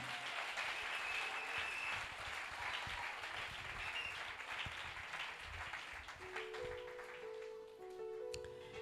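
A church congregation applauds during a French-language sermon on marriage, a steady wash of clapping that stays fairly loud throughout, with a faint sustained tone creeping in near the end.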